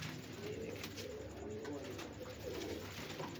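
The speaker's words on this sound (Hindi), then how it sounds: "ये गुलाबी रंग का कबूतर देखें कैसा टैडी कबूतर है" Pigeons, including a pink teddy pigeon, coo softly in a loft, with repeated low, rolling coos overlapping in a continuous murmur and no talk.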